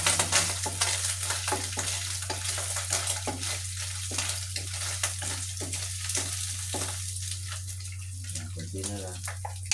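Food gets stirred and mixed in a frying pan, with repeated close scraping and clattering strokes over a low steady hum and a light sizzle.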